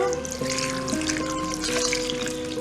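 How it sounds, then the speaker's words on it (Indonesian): Boiled, cooled water pours and trickles into a container of papaya pickle, a soft continuous splashing with a faint steady hum in the background. "kita siram dengan air"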